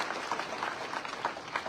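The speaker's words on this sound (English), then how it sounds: "Can you give a better round of applause to Christopher Haile?" A school thanksgiving service audience gives a brief round of applause, a soft, even patter of many hands clapping at a distance.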